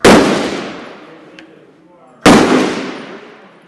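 Two sharp, loud rifle shots ring out at an outdoor shooting range, a couple of seconds apart, each with a long echoing decay across the range.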